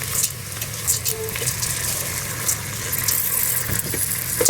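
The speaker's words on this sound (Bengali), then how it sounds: "চাউলটা ভেজে নিব সুন্দর করে, আমাদের ভুনা খিচুড়ির জন্য।" Rice and lentils fried together in a pot for bhuna khichuri, with steady close sizzling and occasional stirring scrapes running throughout, under a busy kitchen background.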